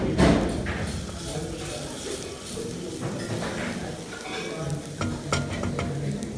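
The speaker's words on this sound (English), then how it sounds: "I'm going to start by adding some garlic to it. And I'm going to saute it." Garlic sizzles in hot oil and butter in a pan, a continuous frying crackle broken by stirring scrapes and a few thuds against the cookware.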